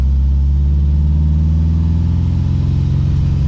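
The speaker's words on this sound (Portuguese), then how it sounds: "Ele é um Golf com motor a ar." An air-cooled Volkswagen Beetle engine fitted in a Golf GTI runs loudly and steadily up close, a low, throbbing rumble with no one speaking.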